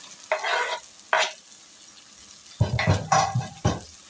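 A spoon stirs beef stew in a pot in a few short, separate scraping strokes, two early and then a quicker cluster near the end, with quiet gaps between them and no talking.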